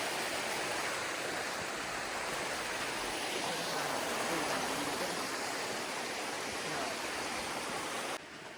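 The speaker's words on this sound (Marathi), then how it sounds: "आपल्या आठ सरांना पाणी चालू झाले" Irrigation water pours steadily into furrows of a sugarcane field, a dense continuous rushing flow, close and fairly loud, that drops abruptly in level near the end.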